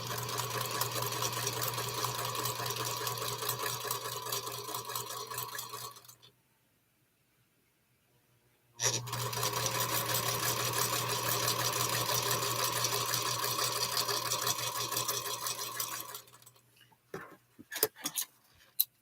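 A Featherweight sewing machine runs in two long, steady bursts of fast mechanical whirring and ticking, separated by a brief silence, then stops with a few clicks and handling sounds.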